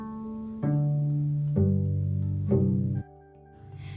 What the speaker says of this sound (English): The cello can also make sounds without a bow.